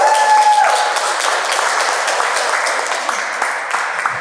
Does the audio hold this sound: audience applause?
yes